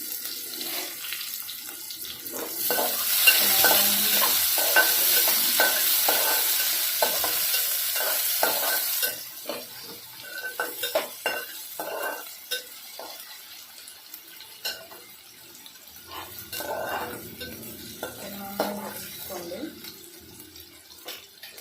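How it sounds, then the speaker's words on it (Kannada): Onions go into a pan with garlic for methi aloo sabji, bringing a soft frying sizzle with stirring and utensil clatter, alongside bursts of running tap water; a voice talks over parts of it. "ಬೆಳ್ಳುಳ್ಳಿ ಆದಮೇಲೆ ಈರುಳ್ಳಿ ಹಾಕಬೇಕು."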